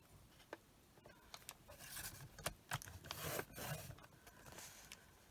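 Scoring lines into card stock for a sliding chocolate treat box, with a series of short rubbing, scraping strokes at close range, some sharp ticks between them, and no talking.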